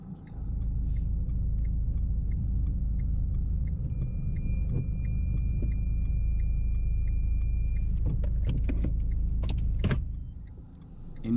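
A car sits running with a low, steady engine rumble close by, while a power window hums and small mechanical clicks and rattles rise toward the end as it gets moving.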